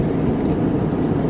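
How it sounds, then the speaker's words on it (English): Inside an Acura MDX cruising on a road, a steady close cabin rumble of road and engine noise carries on with no one speaking. "we're just driving along"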